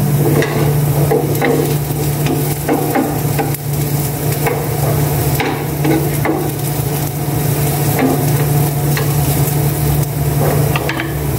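Creamer is stirred into food in a pot, a spoon scraping and knocking in an irregular rhythm over a steady low hum and faint sizzle, close and fairly loud throughout.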